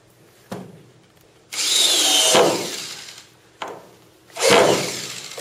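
A power drill drives a screw into a freshly stood studio wall in bursts, with two short whirs followed by two longer, louder runs that rise as the screw bites, and quiet pauses between them.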